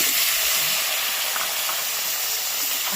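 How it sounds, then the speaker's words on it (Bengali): Boiled, peeled potato sizzles as it lightly fries in a pan for an aloo matar paneer dish, a steady close hiss with no pauses and no voices. "এই আলুটা সেদ্ধ হলে না একটু ভেজে নিতে হবে"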